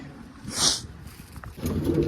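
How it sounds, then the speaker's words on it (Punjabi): A single soft coo from a pigeon eating grain, followed by faint rustling and low background noise; brief and close. "ਇੱਧਰ ਵੀ ਪਾਤੇ ਆ ਖਾ ਰਹੇ ਆ ਕਬੂਤਰ"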